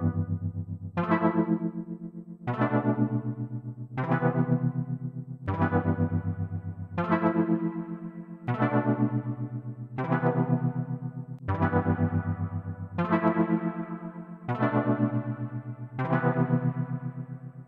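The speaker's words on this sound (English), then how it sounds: "The reverb features only two controls for tone and pre-delay, but lets you choose from six different types." A sound-design synthesizer demonstrates its reverb effect with a repeating pattern of bright plucked chords. Each chord rings out with a decaying tail before the next arrives, about every one and a half seconds, and no voice is heard.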